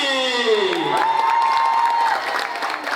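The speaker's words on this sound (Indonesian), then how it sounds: "Mari kita sambut dengan tepuk tangan yang meriah." A school audience at an SMAN 12 Depok student showcase applauds and cheers, steady clapping under rising shouts and whoops, with voices calling out over the crowd.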